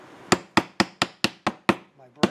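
A brass hammer taps pins into knife handle scales, seven sharp, evenly spaced metallic strikes close up, with a short soft rustle before the last blow.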